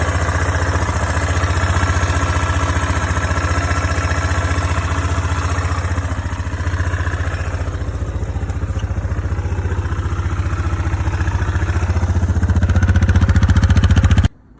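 A warmed-up engine, readied for spring planting, idles steadily and loudly with a low, even rumble and faint clatter, cutting off abruptly at the end.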